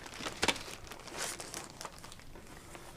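A cardboard end-opening Revell plastic model kit box for a PT boat being opened, with soft close crinkling and scraping of cardboard and plastic wrap, faint, quiet and brief.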